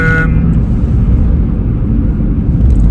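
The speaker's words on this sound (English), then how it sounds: "it's very noisy in here. It's only tyre noise" Steady low roar of tyre noise inside a Suzuki Swift VVTS GLX on the move, a broad rumble filling the cabin continuously with a brief higher tone at the very start.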